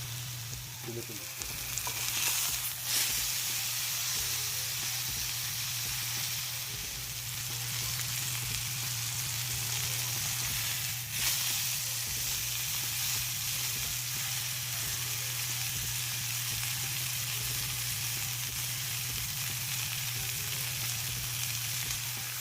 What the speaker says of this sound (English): we're gonna sear it on all sides to get to the color